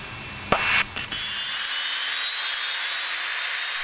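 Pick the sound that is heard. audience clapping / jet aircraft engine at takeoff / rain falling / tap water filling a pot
jet aircraft engine at takeoff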